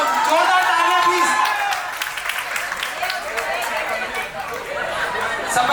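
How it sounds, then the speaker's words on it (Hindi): Audience clapping and cheering at a first birthday party, a dense, steady wash of applause with crowd chatter mixed in, loudest at the start and easing slightly over several seconds. "जोरदार तालियां प्लीज"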